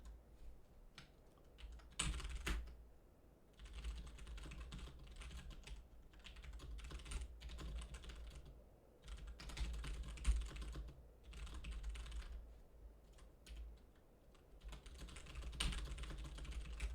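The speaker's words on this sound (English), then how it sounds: "I'm currently using the original DOS keyboard" Someone types on an original DOS computer keyboard with steady clacking keystrokes in bursts and short pauses, close and fairly quiet, with a low hum underneath.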